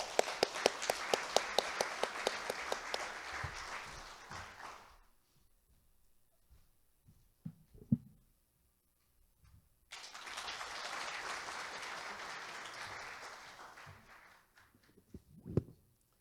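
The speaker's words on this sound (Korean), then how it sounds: "자, 큰 박수로 환영해 주시기 바랍니다" Audience applause welcoming a keynote speaker at an electrical engineering society conference, a burst of clapping that fades out, a quiet gap with footsteps and taps, then a second swell of applause dying away.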